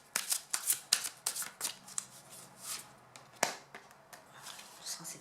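Tarot cards are shuffled and drawn close up, with a run of crisp riffling and flicking bursts in the first two seconds, then sparser single snaps and slides. No one speaks.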